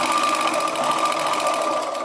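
A sewing machine stitches a chudidar top in a fast, steady, close whirring hum with an even mechanical chatter, running continuously with no pauses.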